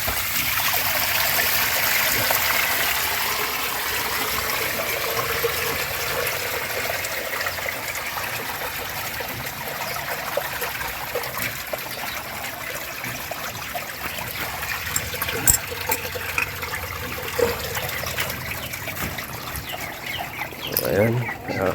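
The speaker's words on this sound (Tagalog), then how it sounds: "dito ako magbawas ng tubig" Water drains steadily out of a catfish tank, a continuous rushing trickle heard throughout, with faint bird or rooster calls in the background.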